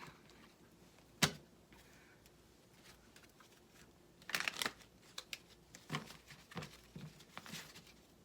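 Playing cards riffle and snap in quick bursts, faint and close, with quiet pauses between the shuffles.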